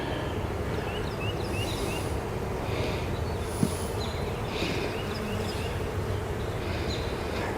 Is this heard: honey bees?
yes